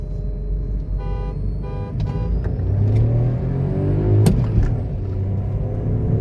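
Two Skoda Kushaq SUVs, a 1.0 and a 1.5 with DSG gearboxes, accelerate in a drag race from a rolling start in first gear. Engines roar and rise in pitch, growing louder, after a few short electronic beeps near the start.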